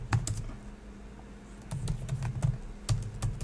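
A password being typed on a computer keyboard, a run of quick, close key clicks with a few louder strikes, no talking.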